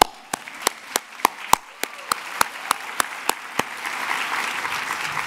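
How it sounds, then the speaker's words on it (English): Applause at a forum begins with a few loud, evenly spaced single claps near the microphone, then broadens into a softer, denser crowd clapping that builds toward the end. "how about another round of applause for Kira Lee"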